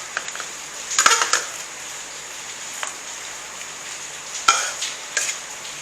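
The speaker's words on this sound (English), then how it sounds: "And now add my dry fish already washed, deboned and broken in pieces." Washed, deboned pieces of dry stockfish drop into a soup pot over a faint simmering hiss, with a few distinct clattering splashes and knocks spaced irregularly, close by and with no talking.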